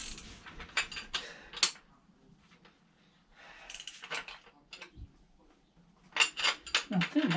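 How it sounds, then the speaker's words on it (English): A spanner winds on the top mount nut of a front car strut during a Citroen C4 Grand Picasso repair, making bursts of close metallic clicking and ratcheting separated by quiet pauses. "So wind it on with the spanner."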